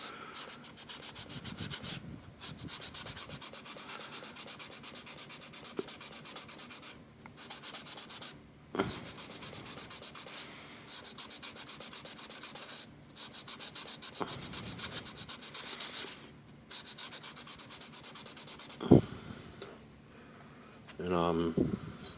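Sandpaper rubs back and forth across a model car body in close, rhythmic strokes with brief pauses between passes, a soft raspy scratching under occasional light handling noises.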